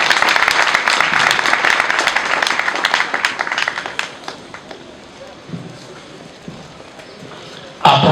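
Audience applauding after a speech at a ministerial building inauguration ceremony, dense steady clapping that gradually thins and fades, with a voice over it.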